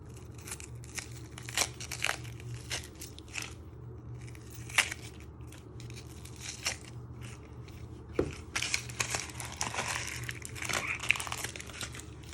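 Dry onion skin crackling and crinkling as layers are peeled away after the ends are chopped off, with close, irregular crisp rustles and a few sharper snaps, no talking.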